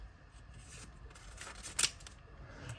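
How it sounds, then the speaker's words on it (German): Pokémon-themed scissors cut open paper letters, a quiet rustling of paper with one sharp snip standing out near the middle. "öffne ich schnell die Briefe mit der Pokémon-Schere"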